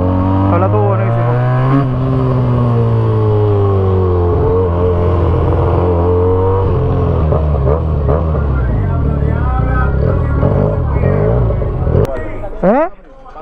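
A Benelli 302S motorcycle engine revs on a test track, its pitch climbing and falling through several rising sweeps, loud and close, with people talking over it.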